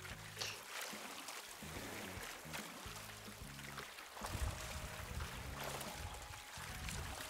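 A character swimming in the ocean in Animal Crossing New Horizons makes repeated splashing water strokes in a steady rhythm over a constant watery wash, fairly close, with no talk.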